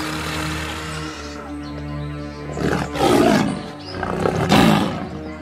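A tiger in a children's story lets out two loud, drawn-out roars in the second half, rising over a steady low background drone with no talking.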